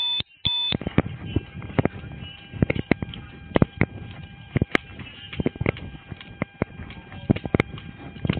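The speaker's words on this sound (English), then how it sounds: "God, it's alarm." A building alarm beeps repeatedly during an emergency evacuation, sharp steady tones over a noisy, echoing background with scattered knocks and footsteps.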